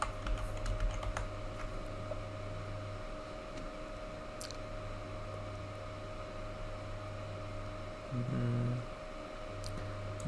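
Someone typing a search into a computer keyboard, heard as faint scattered key clicks over a steady low electrical hum, with no talk.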